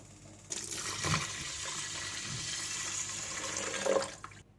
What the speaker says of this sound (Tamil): ஸோ 3 கப் தண்ணி வந்து இதில் சேர்த்துக்கிறேன்.